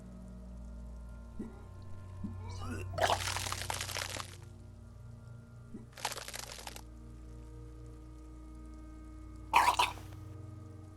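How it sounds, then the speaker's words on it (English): Game sound from Disco Elysium of vomiting onto the floor: three separate wet, splattering bursts over a steady low background hum, the last one short and sharp. "Your body curls and pushes it out, burst by burst, until a pool of vomit lies under your feet"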